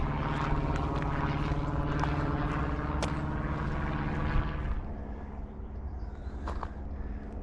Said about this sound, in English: Little plane heading for Perpignan,